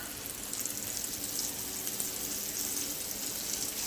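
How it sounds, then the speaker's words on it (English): Steady, dense sizzling and crackling of shrimp coated in egg, cornmeal and flour frying in hot oil, continuous and fairly close, with no talking. "I like hear that sound. That means the oil is hot."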